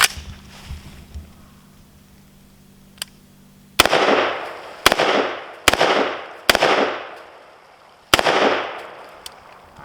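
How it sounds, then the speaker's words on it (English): Five loud gunshots are fired at a target with a rifle fitted with a red dot sight, irregularly spaced and each trailing a long outdoor echo, after a faint click and low background noise. "So I'm going to shoot a few times just to show you guys that I am aiming at the right target"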